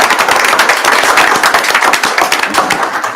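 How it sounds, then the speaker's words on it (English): Loud, dense applause from a school board meeting audience honoring a donor, many hands clapping close by in a continuous rattling burst throughout. "we could give Jim a round of applause for his wonderful donation"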